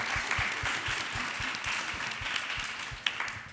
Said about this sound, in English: give me a big applause for that one